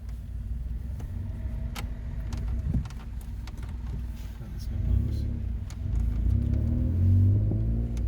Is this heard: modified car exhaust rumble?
yes